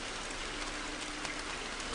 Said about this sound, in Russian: От этого бесконечного дождя все насквозь пропитано